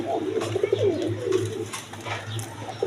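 A pair of red Indian Bombay pigeons, big-crested birds, coo softly nearby in a few low rolling calls over faint background noise.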